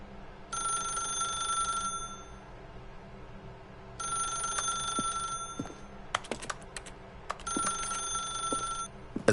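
A telephone rings in repeated bell bursts, about one and a half seconds each with pauses between, fairly close and clear over a faint background with a few clicks and knocks and no talking.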